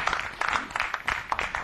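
Audience applause at a Hindi poetry gathering, a short stretch of dense, fairly soft clapping from a crowd, with no talk over it.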